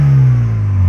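Deep, loud exhaust drone from a BMW 320i with the N20 turbo engine and an HRE exhaust, a brief steady rev held close to the car for under a second.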